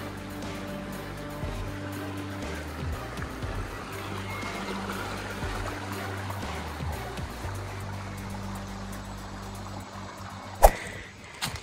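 A stream flowing through woodland gives a steady, broadband rush of water close by that lasts the whole stretch, with low hums running underneath and a brief sharp knock near the end.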